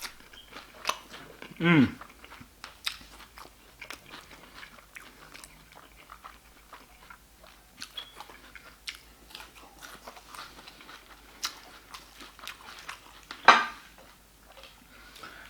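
Bites of crunchy homemade salad are chewed up close, with crisp crunches and clinks of cutlery and dishes; a man gives a brief appreciative murmur between mouthfuls.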